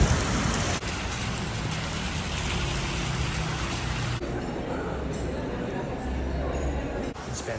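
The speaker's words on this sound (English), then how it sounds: "Raining hard now." Heavy rain falls steadily in San José, Costa Rica, a dense continuous hiss of downpour with a slight shift in texture partway through, and faint voices occasionally underneath.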